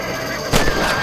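A single loud, booming gunshot in Red Dead Redemption rings out against a steady game ambience, with a short echoing tail.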